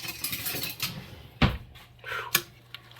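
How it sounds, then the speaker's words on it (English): A spoon clinks and scrapes against a jar or bowl while mixing onions and spices in red wine vinegar, giving a few sharp metallic taps amid softer stirring and sloshing, close and fairly loud. "we're gonna give it a nice, good mix"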